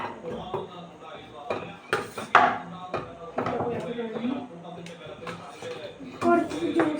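Pieces of cut watermelon drop into a bowl, producing scattered wet thuds and light clinks against the dish beneath a person talking throughout.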